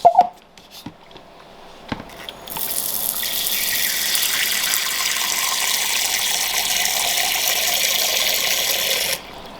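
Fresh water gushes from a tap to top up a container in a reptile setup; after a few faint knocks and clicks, a loud steady pour starts and runs evenly for several seconds before cutting off abruptly.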